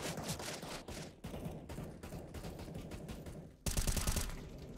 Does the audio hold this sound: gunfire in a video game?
yes